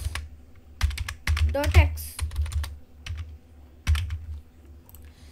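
Code is typed on a computer keyboard in irregular bursts of close, crisp key clicks and clacks while someone speaks quietly over them.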